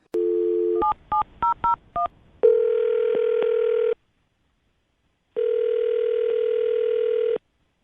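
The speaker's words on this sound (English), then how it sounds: "I'm going to dial her phone number right now" A landline telephone dials a number: a steady dial tone, then a quick run of five touch-tone beeps, followed by two long ringback tones separated by silence.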